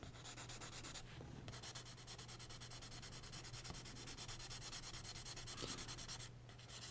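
Graphite pencil rubs back and forth across paper in steady close shading strokes, a dry rhythmic scratching with brief pauses between passes, no talk.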